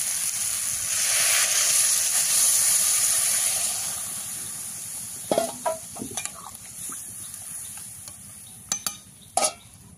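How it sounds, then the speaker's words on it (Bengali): Water hits a hot pan of soybean and taro curry with a loud rushing hiss of steam that fades over several seconds, then a few scraping clinks of stirring, close up. "এবার জল দিয়ে দেবো।"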